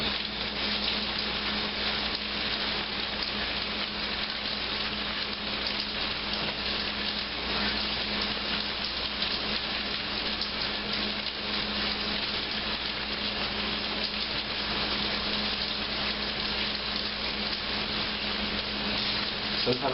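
Tomatoes are seeded underwater for pico de gallo, giving a steady wash of splashing and dripping water that runs continuously and evenly throughout, close by and moderately loud with no voices.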